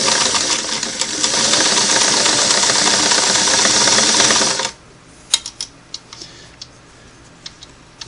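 A Singer Model 338 sewing machine runs a long straight stitch in a steady, rapid mechanical whir for about four and a half seconds, then stops, followed by a few scattered clicks and handling taps.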